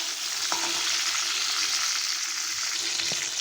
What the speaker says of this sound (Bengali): পটলগুলো এপিট ওপিট করে ভালো করে লাল করে ভেজে নিতে হবে